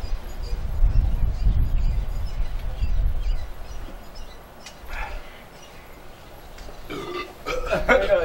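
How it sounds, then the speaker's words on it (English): Burping during a food challenge, a few deep guttural belches near the start over a noisy background, followed by quieter stretches and bursts of voices and laughter toward the end. "Just keep burping."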